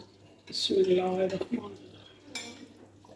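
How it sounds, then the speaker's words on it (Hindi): Beef nihari, cooked in a pressure cooker, is ladled from the pot into a serving dish with a few near metallic clanks and scrapes of the ladle, while a voice talks briefly over the clatter. "अब मैं डिश आउट करती हूँ"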